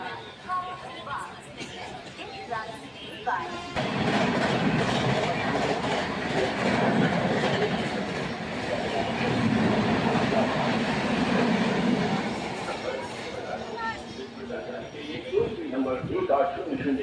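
A passenger train pulls away from Faridabad station, its rumble and rhythmic clatter rising after a few seconds and rolling on steadily, with people talking over it throughout.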